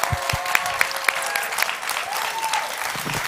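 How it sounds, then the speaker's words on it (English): Applause and cheering from a conference audience at a human rights event during Pride. A few crisp claps stand out over the crowd noise, along with scattered whoops and a rising whistle-like cheer. "give yourself a massive round of applause"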